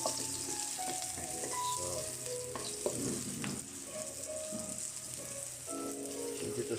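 Garlic and ginger sizzle steadily in a hot pan, a continuous close frying crackle with occasional stirring scrapes and clinks running throughout, no voices.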